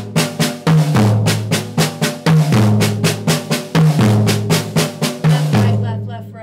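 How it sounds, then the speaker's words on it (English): Six-stroke drum roll played on a kit, with accented hits on the toms and quick rolled strokes on the snare, repeating loud and close in a tight, even pattern. "I like to put the accents on the toms and then have the roll part on the snare drum."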